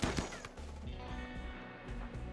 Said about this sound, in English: What other shooting do I hear?